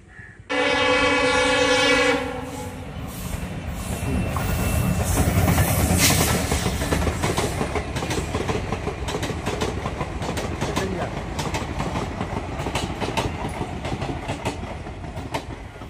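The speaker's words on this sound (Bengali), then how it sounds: "ওই যে ট্রেনও চলে এসছে।" A train arrives with a long, loud horn blast lasting about two seconds, then rumbles past nearby as a steady, continuous roar of wheels and carriages fills the rest of the passage.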